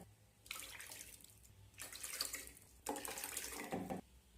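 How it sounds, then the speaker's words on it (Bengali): Water pours into a wok holding ground sago in three separate bursts, each a steady splashing rush lasting about a second, with short quiet gaps between them. "প্রথমে আমি 5 বাটি জল এর মধ্যে দিয়ে দেব।"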